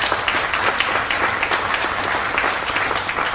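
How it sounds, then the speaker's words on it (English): Applause at a Teacher of the Year awards event, a short burst of dense, steady clapping from an audience, fairly loud and unbroken throughout. "so give him a round of applause"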